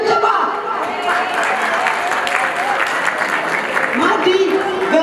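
An audience bursts into loud, sustained applause at a fundraising auction event, continuous clapping filling the room for several seconds with a voice speaking over it.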